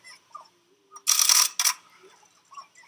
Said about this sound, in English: Hear the camera shutters in the background there.